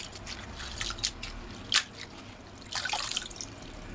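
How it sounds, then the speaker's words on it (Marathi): Cabbage is washed by hand in a vessel of water at close range. Soft splashes, drips and squishy sloshing sounds continue through the whole stretch, with a denser burst of splashing near the end. "यात मी पत्ताकोबी धुवून घेते"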